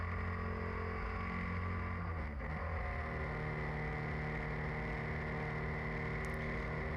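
Steady engine drone of a hot car under shakedown, held in fourth gear with a continuous harmonic hum and little rise in pitch; close and loud, with no talk.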